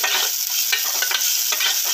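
A steady dry scraping and rustling as spices are stirred and tossed while dry-roasting in a hot pan, with faint crackling, close and continuous.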